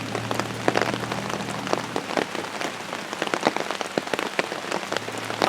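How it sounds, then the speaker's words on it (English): Heavy rain pours steadily on surfaces outdoors during a storm, a dense and continuous hiss full of close, sharp droplet hits, with no voices over it. "It's raining pretty hard."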